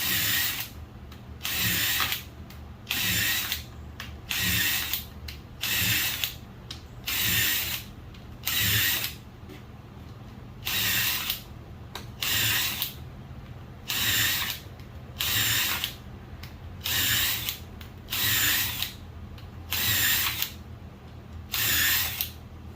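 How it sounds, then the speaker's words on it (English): A power drill whirs in repeated short bursts, boring shelf pin holes in a cabinet side, about a dozen evenly spaced runs with brief pauses between, close and loud. "So now you can just drill all the rest of them."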